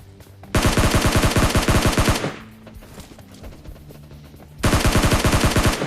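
Automatic gunfire in PUBG Mobile Lite, two loud close bursts of rapid, evenly spaced shots, one lasting about two seconds and the other trailing off at the end, separated by quieter game ambience.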